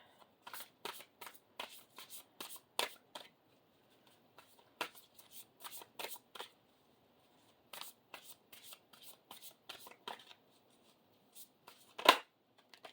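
A mediumship tarot card deck is shuffled close up in a quiet room, giving repeated quick riffling bursts separated by short pauses, with one sharper snap near the end.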